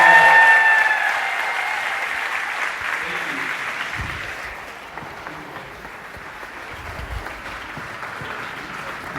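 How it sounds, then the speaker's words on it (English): Steady applause from a sizable crowd at a convocation ceremony, loud at first and then gradually thinning and fading to a softer patter. "Let's give them another round of applause."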